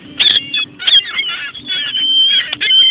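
Seagulls, one with a black head, squawk and call loudly and continuously as a woman feeds them, several overlapping harsh cries close by with brief gaps.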